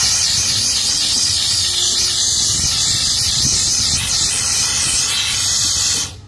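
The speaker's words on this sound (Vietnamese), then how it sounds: "Hơi mạnh quá, mạnh. Giảm bớt hơi, hơi là mạnh quá." A Swiss-made high-pressure hot steam cleaner blasts steam onto a rice cooker pot as a loud, continuous hiss that holds steady for about six seconds and then cuts off abruptly.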